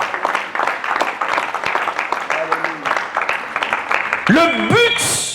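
A church congregation claps and cheers to acclaim the Lord, a steady mass of applause and voices for several seconds, with a shout and a rising instrumental or vocal note near the end.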